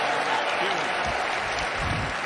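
Audience at a hound group dog show bursts into sustained applause and cheering, a dense, steady roar of clapping with some voices mixed in throughout.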